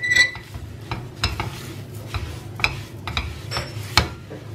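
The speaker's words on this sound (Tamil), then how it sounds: "அதே மாதிரி நம்ம வறுத்து வச்சுருக்கிற எள்ளையும் போட்டுக்கிறேன்." Peanuts and roasted sesame seeds go into a pan for sesame candy, with scattered light clinks and taps of spoon against metal and a faint low stirring rustle over a few seconds, close and without talk.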